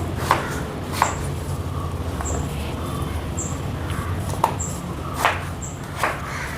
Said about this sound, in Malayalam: അപ്പോൾ അതിനുള്ളത് ഞാൻ അരിഞ്ഞിട്ട് കുക്കറിലേക്ക് ഇടുകയാണ് കേട്ടോ.